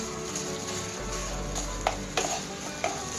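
Milk powder khoya being stirred steadily as it dries in a pan, a soft continuous scraping and faint sizzle with a few sharper clinks of the spoon against the pan near the end.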